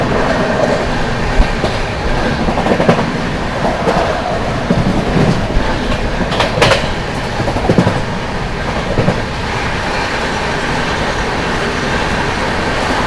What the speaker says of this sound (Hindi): आप लोगों को दिखाते हैं हाथरस जंक्शन का स्किप।